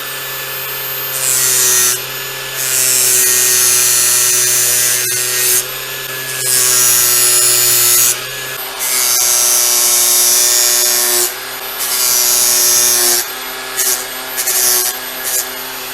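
A flap disk on an angle grinder polishes and thins a replacement table saw blade for a Mollar TS600B, making loud, harsh, high grinding bursts that start and stop repeatedly over a steady motor whine, close by, with no talking.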